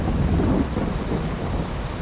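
Heavy rain pours steadily under a deep rolling thunder rumble in a Farming Simulator 22 thunderstorm. The sound is close and dense, with no speech.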